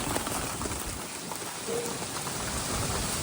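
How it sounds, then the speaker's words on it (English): Heavy rain and hail pour down steadily during a strong Colorado afternoon thunderstorm, a dense, continuous hiss with no talking. "It's hailing."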